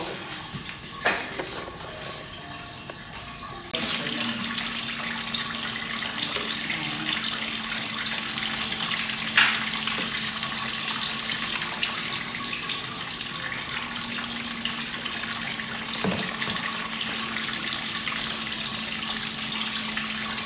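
Water streams steadily from a shower ring at a scalp and body spa, a continuous rushing hiss that grows fuller after a few seconds, with a low hum and occasional faint knocks in the background.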